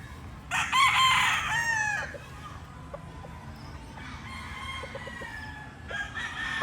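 A gamefowl rooster crows loudly nearby, then gives a few short clucks, with another crow starting at the end against a quiet outdoor background.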